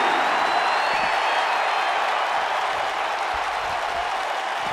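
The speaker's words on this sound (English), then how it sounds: "the crowd is loving Sasha's act" Crowd in the WWE 2K19 wrestling game cheering steadily throughout a RAW women's match, a dense, continuous roar of applause and voices with no breaks.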